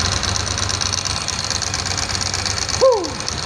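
A Ducati 888 motorcycle, revived after 24 years in storage, idles roughly while firing on only two cylinders, a steady uneven engine drone, with a brief chirp cutting in near the end.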